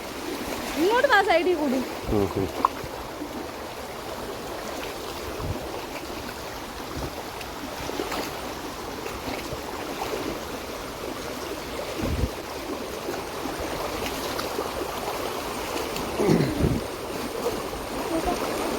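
Splashing and sloshing water as someone wades through a stream, with a continuous flowing background and occasional louder splashes; voices talk intermittently over it.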